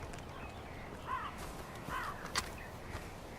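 A crow in the video game Far Cry 4 caws two or three times, hoarse and mid-distance, over a constant hiss of outdoor ambience with faint footsteps.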